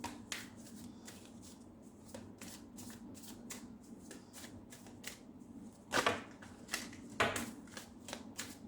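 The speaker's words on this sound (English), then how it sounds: "we'll pull out same 4 cards again to see the energy in June" Tarot cards are shuffled and drawn by hand in a run of quick, crisp riffling flutters and soft card slaps. A louder burst of shuffling comes near the end, with no talking.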